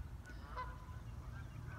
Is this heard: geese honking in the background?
yes